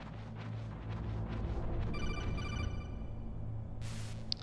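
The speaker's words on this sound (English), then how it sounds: "What does he have his ringtone on?" Codec call ringtone in the Metal Gear Solid video game, a faint electronic ringing pattern that enters partway through over a low, steady game background hum.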